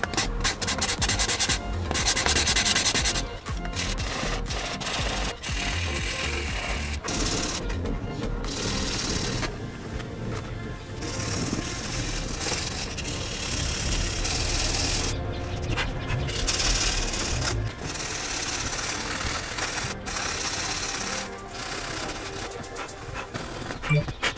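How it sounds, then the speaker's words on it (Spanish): Continuous rhythmic rubbing of fine 1000-grit sandpaper over car body filler on a BMW E46 323Ci, close and steady, with short pauses between strokes, a voice faintly present underneath. "vamos a darle con lija de mil muy suavemente"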